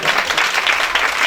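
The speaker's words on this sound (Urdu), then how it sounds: "اپنے لیے تالیاں بجائیں گے۔" Audience applause fills a church hall during an Easter sermon, a dense, steady wash of clapping that stays loud and even for over a second without any voices.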